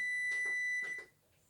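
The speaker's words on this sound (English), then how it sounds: "There's my timer." A kitchen timer beeps after water bath canning of cherry tomatoes and zucchini, sounding a few quick high-pitched electronic beeps in short pulses, close and clear, before falling quiet.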